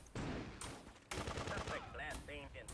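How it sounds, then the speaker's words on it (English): Explosions and bursts of gunfire from the Grand Theft Auto 2 video game come in loud, dense clusters, with a sharp blast near the start and another partway through, and a person talking over them. "Barely can hear these explosions"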